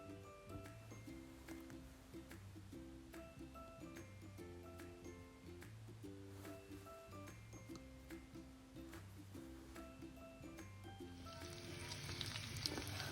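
Lamb chops sizzle softly in a covered pan, a faint steady frying crackle under rhythmic background music, with the sizzle swelling slightly near the end.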